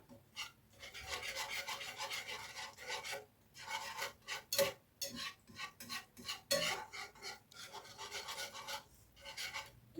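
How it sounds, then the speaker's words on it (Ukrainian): Whisk breaking up flour lumps in a sauce, giving repeated scraping, rasping strokes against the pot in uneven bursts, close and fairly quiet, with no talk. "Можна вінчиком трошки заодно розбити ось ці грудочки такі мучні."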